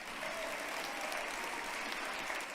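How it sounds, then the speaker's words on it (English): Steady, dense audience applause at a 2025 university commencement ceremony at LTU, quiet and distant, sustained evenly throughout without voices. "a round of applause"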